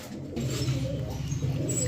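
Pigeons at a bustling pigeon market coo in low, steady, layered calls that run through the whole stretch, with a dense crowd-like murmur beneath and no one speaking close by.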